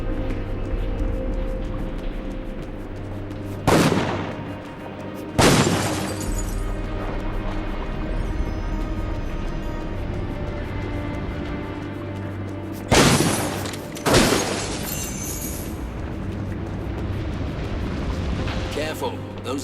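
Fiery flare-ups bursting inside an underground dwarven tunnel in the video game Dungeon Siege 3, heard as four sudden loud whooshing blasts in two close pairs over a steady low rumbling hum.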